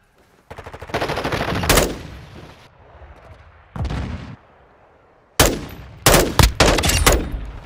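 Automatic weapons fire in a Call of Duty match in loud, rapid bursts separated by short pauses, with sharp close shots toward the end.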